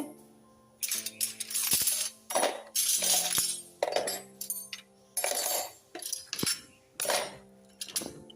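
Spoons and ladles being dropped into a kitchen utensil holder, a series of bright metallic clinks and rattles in irregular bursts about a second apart, close by.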